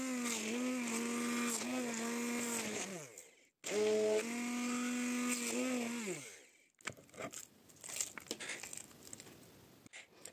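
A blender whirs steadily as it purées grainy 9% cottage cheese until smooth, two long motor runs with a brief pause between, then scraping and knocking of the bowl afterward.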